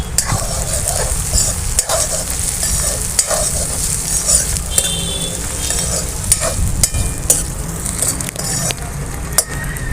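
Potatoes stirred into frying onions in a pan for a village-style okra and potato dish, loud steady sizzling with scraping stir strokes and occasional utensil clinks.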